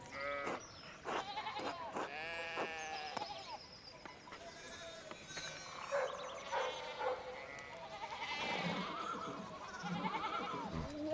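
Sheep in the medieval-setting game Pentiment bleat repeatedly, several overlapping calls rising and falling close by against a quiet background.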